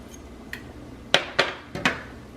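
A utensil stirs a pot of creamy sailor's chowder with haddock and shrimp, producing four or five sharp metallic clinks and scrapes against the pot, close and distinct, in an uneven rhythm.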